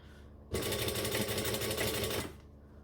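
A sewing machine runs in one steady burst of about two seconds, stitching a panel onto a Vixen, loud and continuous with a fast, even mechanical rhythm and quiet before and after.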